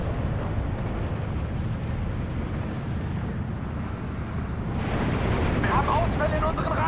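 Artillery fire in the World War II strategy game Steel Division 2 forms a dense, continuous rumbling barrage with heavy low-end booms, while commands and battle chatter carry on over it.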